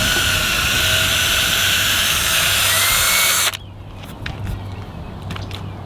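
Power drill whining steadily at high speed while pre-drilling holes to mount mud flaps on a 2024 Ford F450 Limited, close and loud, then stopping abruptly, leaving quieter handling noises and a few light clicks.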